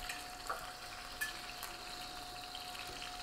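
Chicken thighs frying in oil with fresh herbs, a quiet steady sizzle crackling continuously with a few small pops, no voices over it.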